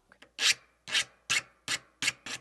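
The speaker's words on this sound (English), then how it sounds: "all of your filing is done on the downstroke" A hand file rasps across a jewelry piece held against a bench pin, giving six evenly spaced, firm downstrokes, each a loud, close scrape with a brief gap between.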